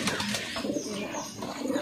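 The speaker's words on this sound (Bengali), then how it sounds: "পায়রা চলছে, এই যে 5 পিস" Pigeons at a Habra pigeon club loft coo softly in low, murmuring bursts, steady background cooing with no talk over it.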